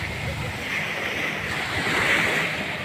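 Sea waves at a beach resort in San Juan, Batangas roll and wash steadily, mixed with wind buffeting the microphone and swelling slightly in the middle.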